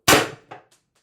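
A single sharp report from an HPA-powered airsoft carbine running at 1100 psi, followed by a quick metallic ricochet clink and a faint second tap.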